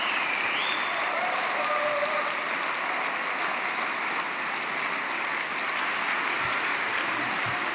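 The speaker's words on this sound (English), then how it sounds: "Okay, you see, there's a lot of applause." Sustained applause from a large audience at an SPD party conference in 2023, a steady dense wash of clapping that fills the whole stretch at even loudness.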